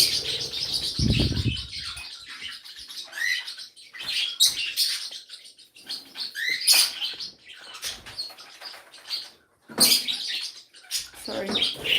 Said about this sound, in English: I wanted to just show you like all of the birds.